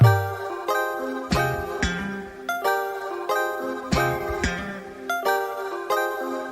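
A track opening with a repeating bright chime-like keyboard figure over soft low bass, pulsing in a steady rhythm, clear and close with no singing yet.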